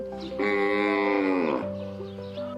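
A single long moo from cattle on a farm in the Thai border area, loud and close, rising and then falling away as low lowing continues faintly afterward.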